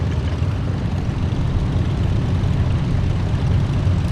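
A propeller airplane engine drones steadily and loudly, a constant low rumble filling the cabin with no voices over it.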